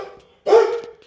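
A dog outdoors lets out one sharp, loud bark close by, with near silence before it.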